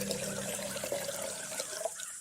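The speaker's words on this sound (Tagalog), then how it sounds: "Ikinuha ko siya ng isang basong tubig." Water is poured into a drinking glass, a steady close trickle lasting about two seconds and tapering off at the end, with no talking.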